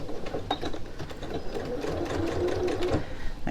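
A sewing machine stitches a half-inch seam on a reversible fabric tote bag, a steady close-up mechanical whirr that runs continuously with no pauses.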